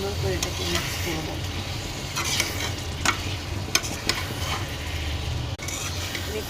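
Beans and potato cubes are stirred in a frying pan over a steady sizzle, with repeated spatula scrapes and clinks against the pan, close and moderately loud.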